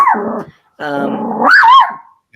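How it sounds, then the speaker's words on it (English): A security dog growls in two close, loud harmonic bursts, the second rising into a sharp bark-like whine, with no talking over it. "Security dog."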